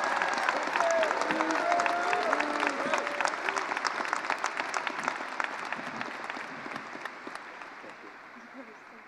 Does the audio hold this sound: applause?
yes